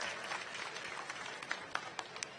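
At a political rally, an audience claps in a faint, distant wash of applause with a few sharper individual claps standing out near the end.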